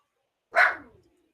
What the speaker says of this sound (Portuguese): E minha cachorra agora resolveu latir.